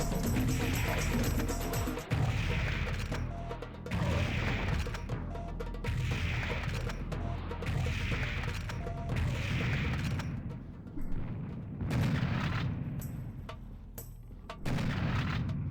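Booming shots in Fortnite, roughly one every second and a half or so in a regular, repeated pattern, loud and close, each with a short blast tail.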